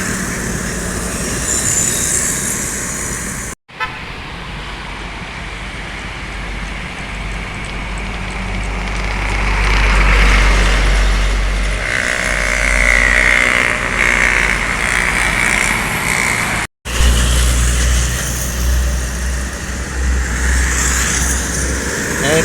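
An empty medium-size tourist bus passes by in the loud, close rumble of traffic, with a steady low roar that swells toward the middle and then continues as more heavy vehicles go by.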